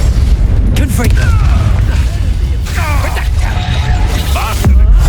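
Confringo blasting spell fired during a Hogwarts Legacy duel, heard as a few booming bursts and crackling magical whooshes over constant battle noise, with voices speaking in between.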